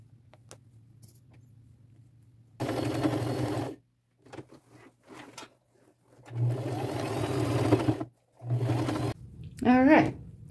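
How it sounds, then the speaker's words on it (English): A sewing machine stitches tulle roses onto denim, running in several loud whirring bursts with short pauses between, plus faint handling taps and a brief squeaky sound at the end. "Going to get it pinned and sewn."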